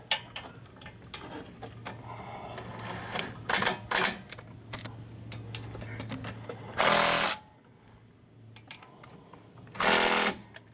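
A power impact wrench tightens bolts on a Hyundai Santa Fe during brake rotor work, firing short loud hammering bursts separated by pauses, with a low steady hum and faint clatter underneath.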